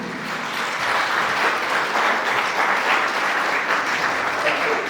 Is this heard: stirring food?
no